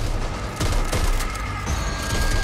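Grenade blasts and rapid gunfire erupt in a zombie shooter video game, several booming bursts and crackling shots stacked close together, loud and near, with no talk over them.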